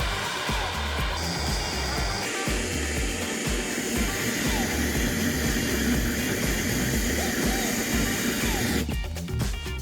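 A gas torch roars steadily and close, heating a thick steel pedal bracket on a Ford F100 pickup, with the hiss holding near-constant for about nine seconds before a sharper clatter at the end.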